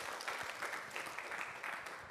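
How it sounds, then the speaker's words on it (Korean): Applause from the audience at a Korean village welfare plan proclamation ceremony, a steady wash of clapping that runs evenly for about two seconds with no voices over it. "뜨거운 박수로 환영해 주시면 감사하겠습니다"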